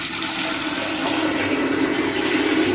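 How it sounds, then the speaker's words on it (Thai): A fine, forceful spray of water from a solar-pumped shower hisses steadily and close, a continuous rushing sound with no voices over it. "น้ำมันจะเป็นฝอยมากนะฮะ"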